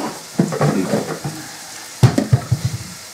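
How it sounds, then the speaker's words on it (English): Cherry wood bacon sizzles in a stew pot for beef and Guinness stew while being stirred, with close scraping strokes and bursts of frying crackle in two separate rounds of stirring. "Stir up the bacon."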